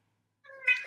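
Cat meowing, a short harmonic call that starts about halfway through and rises into a louder, brighter cry at the end, fairly close and heard alone.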